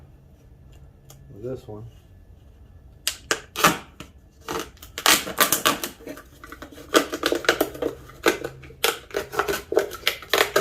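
Someone cuts the bottom off a plastic container for a homemade bleach and lye electrolysis setup, a fast series of sharp snipping and cracking clicks that follows a quiet stretch, with brief speech.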